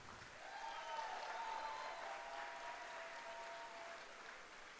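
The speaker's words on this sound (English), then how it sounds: "let's give a big round of applause" Conference audience applauding at a large Las Vegas leadership event, a steady wash of clapping held evenly through the whole stretch at moderate distance, with no voices over it.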